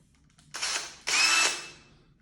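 A power drill bores holes with a drill bit in two short bursts: a brief whir, then a slightly longer one that trails off. It sounds close and clear over a quiet background.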